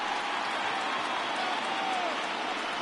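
Baseball stadium crowd rising and cheering on a full 3-2 count during a 1990s Cleveland Indians playoff game, a dense sustained roar with applause, steady and even throughout.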